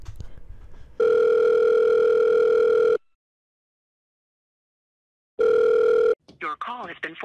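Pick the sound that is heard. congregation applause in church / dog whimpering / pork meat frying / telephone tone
telephone tone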